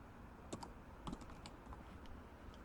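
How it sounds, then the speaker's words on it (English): Sparse keystrokes on a computer keyboard, a few soft clicks and a short double tap at moderate distance, typed while opening PuTTY to reach an Ubuntu virtual machine in Azure. "So I'll go here and type on PuTTY."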